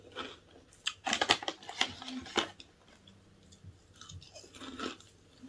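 Crisps from a Morrisons packet being chewed close up, loud crunchy bites and mastication in irregular bursts that fade to softer munching, with no talk.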